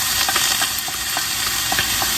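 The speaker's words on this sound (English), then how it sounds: "now we're going to go in and add our chopped garlic" Chopped garlic hitting a hot pan for a soffritto-style Bolognese base, giving a steady, close, loud sizzle with faint stirring clicks throughout and no voices.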